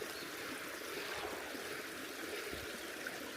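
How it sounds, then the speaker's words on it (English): A small stream flows beneath a trail bridge on a long-distance hike, a steady broadband rush and trickle that stays close and even throughout, with no one speaking. "Nice little stream here"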